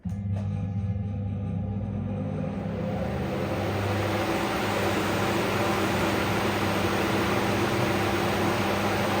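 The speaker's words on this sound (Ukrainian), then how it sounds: "Давайте вімкнемо вентилятор, подивимося, скільки в нього обертів" A VENTS OV 4E 400 axial fan spins up and runs steadily at about 1410 rpm, drawing 160 W, with a broad, even whoosh of air and a low motor hum, loud and continuous throughout.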